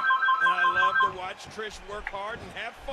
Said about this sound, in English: If you hear my phone ringing in the background, just ignore it, please.